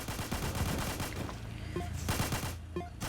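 Mortar tower in Tower Defense Simulator firing repeatedly, a steady run of booming shots over a busy game background with no voice.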